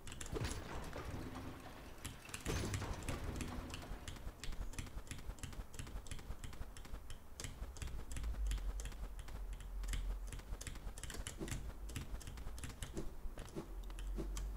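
A new computer keyboard is typed on continuously during a Hollow Knight speedrun, giving dense, rapid, crisp key clicks close to the microphone over a faint low rumble, with no speech.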